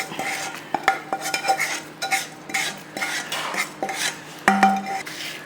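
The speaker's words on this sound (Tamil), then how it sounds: "இப்போ இதை நம்ம வேறு பாத்திரத்துக்கு மாற்றிக்கலாம்." Dry-roasted lentils with curry leaves, rock salt and asafoetida are scraped and tipped from a pan into another vessel, giving irregular metallic clinks, spoon scrapes and rattling grains, close by and without talk.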